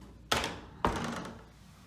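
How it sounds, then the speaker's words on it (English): Concord wheelchair lift door closing in a hotel, two solid thunks about half a second apart, each ringing briefly before fading, close and clear with no talk. "now I'll let the door close."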